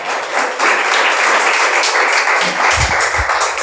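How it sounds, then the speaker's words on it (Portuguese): A church congregation claps together during a Portuguese-language service, a broad steady wash of applause that ends with a few low voiced sounds as it dies down. "Você pode aplaudir o Senhor Jesus?"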